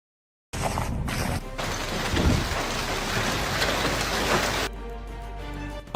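Thousands of oversized hailstones pound the ground in a hailstorm, making a dense, loud, continuous roar of impacts that cuts out abruptly near the end.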